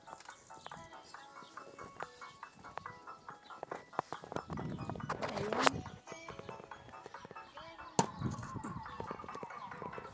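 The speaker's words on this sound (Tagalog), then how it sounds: "Ayan mga manok nila dito." Chickens at a mountainside farm cluck near their coop in an uneven, busy stream of short calls, with a louder burst in the middle and another toward the end.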